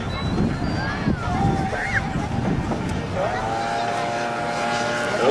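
A radio-controlled model airplane with a 2.6 m wingspan and 15 kg weight flies at an aero club meeting, its engine droning steadily and rising in pitch as it passes, over constant crowd chatter and nearby voices.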